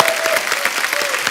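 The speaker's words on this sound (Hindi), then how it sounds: "इनके लिए जोरदार तालियां।" A studio audience on an Indian comedy talk show bursts into loud, dense applause, sustained clapping for just over a second with a faint voice underneath.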